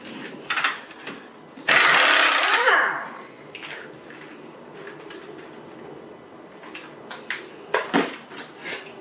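Wrench work on the front hub nut of a Mk4 VW Golf with a 30mm socket, a loud burst of air-tool rattle for about a second, then scattered metallic clinks and knocks of tools in a garage.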